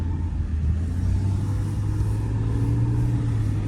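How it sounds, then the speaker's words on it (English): Used car on a test drive, heard from inside the cabin: a steady, low engine rumble with road noise, continuous and even, with no talking. "So we're going to test drive the car"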